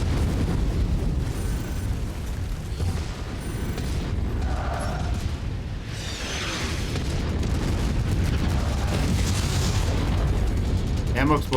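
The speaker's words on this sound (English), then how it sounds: "Ammo explosion." Ammo explodes in the MechWarrior 5 mech combat game: heavy booming blasts and rumbling detonations roll continuously over dense battle noise, loud and close, with talk mixed in.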